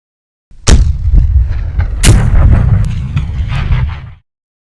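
Gunshots at a spaghetti Western fast-draw shooting competition, two loud sharp reports about 1.4 seconds apart, each followed by booming echo and rumble, close to the microphone.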